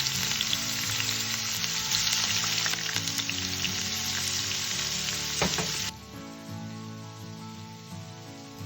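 Prawns frying in hot oil with chopped garlic, a loud dense close sizzle that drops abruptly to a gentler crackle partway through, with brief stirring clatter.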